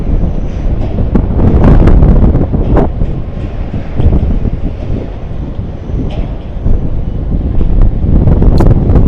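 Strong wind gusting across a Las Vegas stadium construction site on a roughly 101-degree day, a loud steady rush buffeting the microphone with distant work clatter and brief voices.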